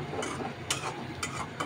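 Potato, eggplant and shrimp stirred in a pan with soft scraping strokes over a light sizzle, a few distinct scrapes in a short quiet stretch.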